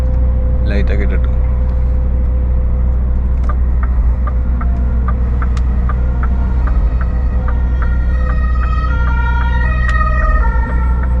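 A fire engine's siren wails steadily while passing on a road between Belgium and Luxembourg, heard from inside a moving truck cab over a constant low engine drone.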